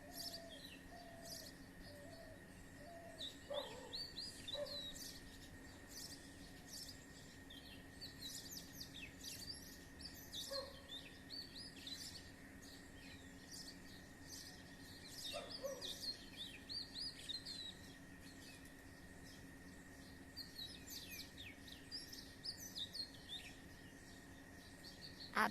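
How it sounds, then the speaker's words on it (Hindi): Small birds chirp and tweet among high tree branches in the morning, with doves cooing softly in the background. The calls are scattered and faint, heard against a steady low outdoor hum. "आपको चिड़ियों का चहचहाना सुना सकूं।"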